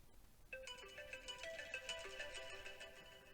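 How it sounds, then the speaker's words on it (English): A phone alarm tone plays a bright, melodic electronic ringtone. It starts suddenly after a brief pause and repeats its chiming notes steadily, close and clear, with no talking. "I need a good alarm tone."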